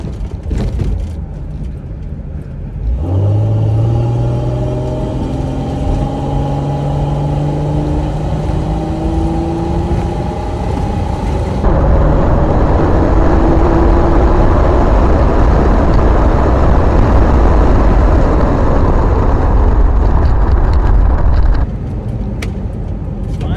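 A car cruising on the highway, its engine running hot: the engine note climbs as it accelerates, then settles into a steady, loud roar of engine and road noise that carries on throughout.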